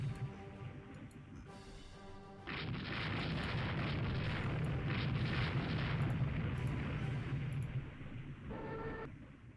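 Bombs hit and explode in the naval warfare game Rule The Waves 2, a sustained roaring blast with rumbling low-end after a few softer tones, fading out with a short sound cue at the end.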